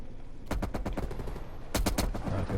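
Gunfire in Call of Duty comes in two quick automatic bursts of sharp, loud shots, with a short gap between the rapid volleys.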